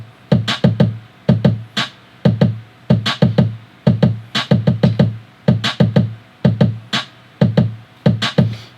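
Layered snare drum samples, one of them drenched in reverb, strike together in a steady, punchy beat, with sharp cracks and low thumps repeating quickly and loudly for several bars.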